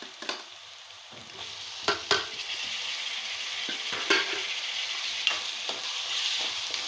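Tomatoes fry in a hot pan for kodigudu pulusu, a soft continuous sizzle broken by a few sharp scrapes and taps of a spoon as they are stirred, with no talking.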